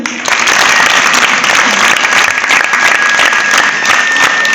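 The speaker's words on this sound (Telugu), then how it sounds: "అందరికీ అన్నం కూడా చప్పట్లు పెట్టండి" Applause fills a memorial anniversary gathering in Gurajala, a loud and sustained crowd of many hands clapping close by, with a brief quiet start before the dense clapping swells and holds steady.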